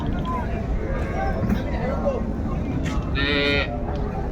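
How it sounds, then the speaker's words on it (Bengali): A dairy cow moos amid steady background chatter at a cattle market in Raniganj, Dinajpur, people talking close by throughout. "এটা হচ্ছে গাভী আর এখানে হচ্ছে বাচ্চাটা বাধা রয়েছে"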